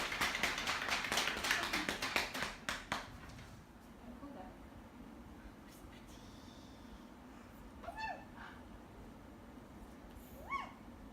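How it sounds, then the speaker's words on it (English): A small crowd claps at a naming ceremony, a quick burst of hand claps for the first few seconds that thins out and fades, followed by quiet room tone with a few faint sounds. "Let's have a round of applause."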